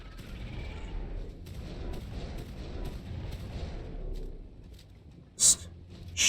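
Gunfire rings out while taming a dinosaur in the video game Ark: Survival Ascended on the Valguero map, a couple of sharp, loud bursts late on after a stretch of low rumbling game noise.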